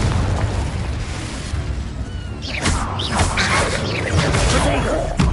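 Confringo spell blasts and fiery bursts in the Hogwarts Legacy game, a dense, loud roar of explosions and crackling magic effects over a steady rumbling bed, with brief voice-like shouts mixed in.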